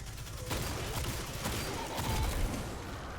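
Weapon fire in the Destiny 2 video game during a Revelry event in the Verdant Forest, with dense overlapping shots and rapid bursts in a continuous loud barrage.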